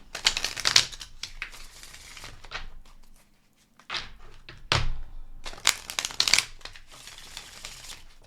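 Tarot cards being shuffled by hand, close and crisp, in several bursts of rapid riffling and slapping separated by short pauses, with soft handling noises in between.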